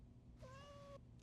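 A single short cat meow sample played from a Roland SP-404MKII sampler, clear and close, rising then holding briefly over a low background hum.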